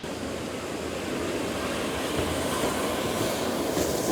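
A train on a single-track railway rumbles steadily into Castletown station, a continuous loud roll of wheels and carriages that builds slightly over four seconds, with no voices.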